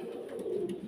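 A Jacobin pigeon from a pair at a pigeon farm gives a soft, low, continuous cooing, close and steady throughout the short moment.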